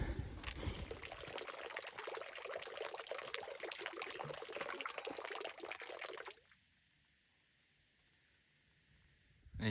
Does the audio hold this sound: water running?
yes